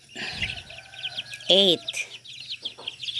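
Backyard chickens cluck and call in short bursts, with one louder squawk near the middle, against a quiet background with faint speech.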